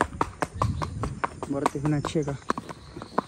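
Horses' hooves clip-clop in uneven, sharp knocks as riders arrive, fairly close, while someone talks over them in the middle.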